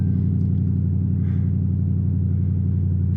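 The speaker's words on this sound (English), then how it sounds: "Started up all right, though. I like the way it sounded when it started" A car engine runs with a steady low rumble, close and even throughout, with no sharp start or revving heard, and no talking over it.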